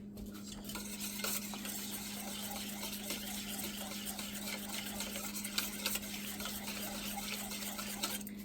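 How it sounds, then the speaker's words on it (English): Blueberry muffin batter ingredients being stirred together in a bowl: a quiet, continuous scraping and swishing with a few light clicks and a low steady hum behind it. "And then we're going to mix all this together"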